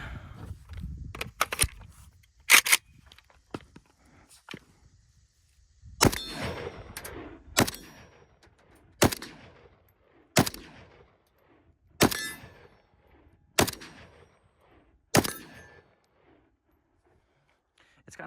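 A Draco pistol firing steel case ammunition at a range, about ten sharp, loud shots spaced one to one and a half seconds apart, each ringing briefly, with a few quieter clanks earlier.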